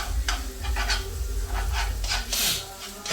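Minced meat fries in butter in a pan while being stirred, a steady sizzle broken by repeated scraping strokes of the spoon against the pan.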